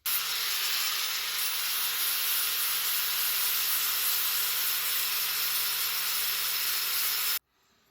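Steady, loud hiss of abrasive smoothing on a cherry wood wedge for a hatchet handle, continuous and close with a faint low hum beneath, stopping abruptly near the end.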